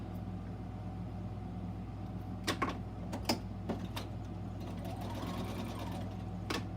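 Sewing machine running steadily while stitching straight across a box bag seam, a constant low mechanical hum with a few sharp clicks and ticks on top, moderately quiet and close.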